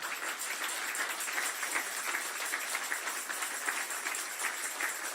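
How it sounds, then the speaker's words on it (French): Sustained, evenly dense clapping from a church audience during a French-language sermon holds at a constant, fairly loud level throughout, with no voices standing out. "Applaudissons encore"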